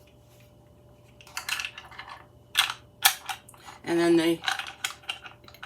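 Metal measuring spoons (half cup, third, quarter, tablespoon, teaspoon) clinking as they nest into one another, heard as several sharp, close taps and rattles, with a brief spoken phrase among them.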